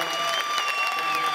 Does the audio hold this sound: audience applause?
yes